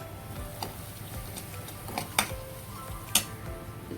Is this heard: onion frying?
yes